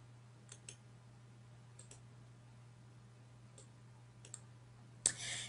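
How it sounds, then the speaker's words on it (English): A computer mouse clicks several times, faint and close, in a few scattered pairs over a low electrical hum, followed by a louder burst of handling noise at the end. "let's click OK here"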